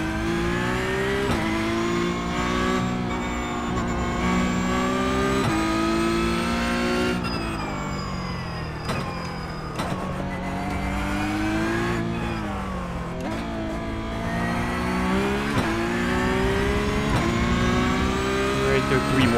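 Porsche Cup car in the racing game iRacing at Aragon, engine roaring and shifting pitch through a corner as tires lock up with a squeal, loud and continuous under a talking voice.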